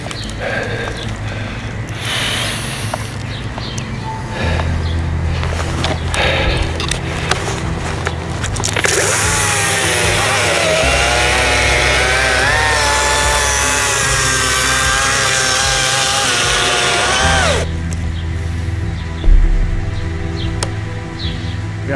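Cordless saw working through a thick log about 30 cm across, a loud continuous motor whine and cutting roar that rises in pitch under load midway, then settles, near and sustained.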